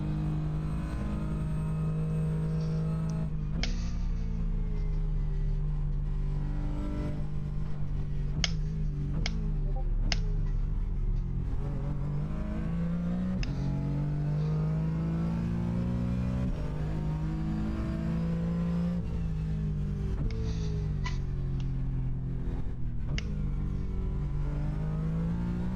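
A GT4 race car engine in the iRacing sim at Sandown drones steadily, its pitch rising and falling through gear changes, with occasional clicks and no voices over it.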